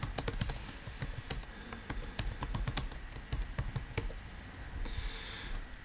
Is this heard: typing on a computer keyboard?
yes